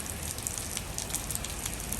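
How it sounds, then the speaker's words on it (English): Steady rain falls along a trail during a long-distance hike, a continuous even hiss with soft patters of drops, moderate in level, with no voices. "this is pleasant rain compared to what I walked in"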